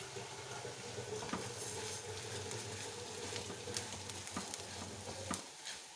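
Ptitim pasta stirred and toasted in a pan, a steady close sizzle with occasional scraping stir strokes, no talk.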